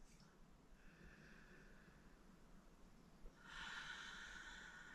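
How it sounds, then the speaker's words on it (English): Deep yoga breath, a faint steady inhale followed by a louder, airy exhale through the nose or mouth, close and quiet in an otherwise still room. "One more deep breath."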